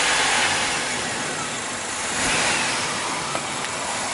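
A GM 4.3 V6 engine with a crankshaft-camshaft correlation fault runs as the gas pedal is pressed, a steady broadband engine roar swelling slightly mid-way, fairly loud and with no talking.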